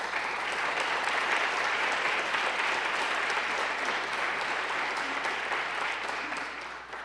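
Sustained applause from an audience honoring veterans at a Daisy Bates 100th birthday celebration in Little Rock, a dense steady wash of many hands clapping that holds for several seconds and eases slightly at the end.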